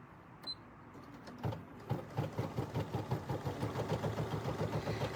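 A BERNINA embroidery machine stitches a bag with a quick, regular mechanical pulsing that builds after a few soft clicks and stays fairly quiet and close.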